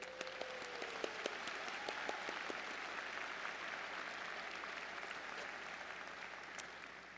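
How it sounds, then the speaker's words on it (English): A large audience at the UCCS 2010 spring commencement gives a round of applause. The clapping is heard from a distance and fairly faint, spreads evenly, and includes a brief whistle-like tone near the start. "Let's give them a round of applause."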